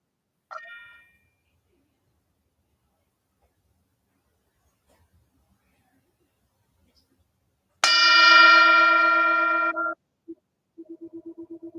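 A meditation bell is struck once near the microphone and rings out with a bright, layered tone that hangs and slowly decays for about two seconds, preceded by a faint earlier chime in otherwise near silence.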